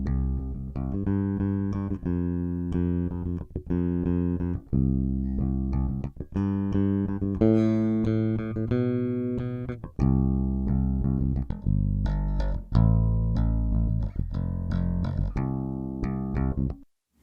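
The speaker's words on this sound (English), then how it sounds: "So first let's listen to the dry bass DI." A clean, dry bass guitar recorded direct with no amp plays a sequence of sustained low notes in a steady line, close and clear, with no voices over it.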